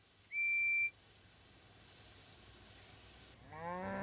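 Cows moo in a cartoon countryside scene: one low, drawn-out moo rises at the very end, after a short, steady high whistle near the start and a quiet stretch of background hiss.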